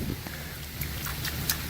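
Rain falls outdoors around a foundation drain with a gravity discharge, a soft steady patter with scattered brighter drops and light splashes, fairly quiet and with no voices.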